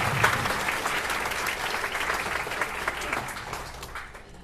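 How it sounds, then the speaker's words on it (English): A concert audience at a summer concert applauds the clarinet section: steady, full applause from a large crowd that holds evenly and thins out near the end. "another round of applause for the clarinet section, ladies and gentlemen"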